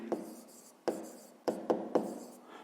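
A pen writes a fraction by hand on paper in a maths exercise: five quick scratchy strokes, each a sharp tap followed by a short rasp, close and clear with no talking.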